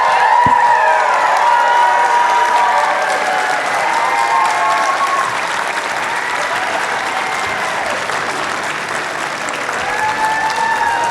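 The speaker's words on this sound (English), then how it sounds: "Give a huge round of applause, everybody." A large convention-panel audience applauds and cheers continuously for the full stretch, a dense wash of clapping with scattered shouts and whoops, fairly loud and steady.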